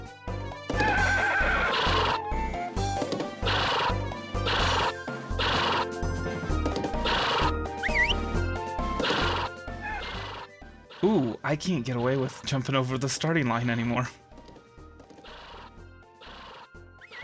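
Game horses in a Harvest Moon: Grand Bazaar race neigh and whinny over a busy musical soundtrack with clip-clop hooves, while a person talks throughout.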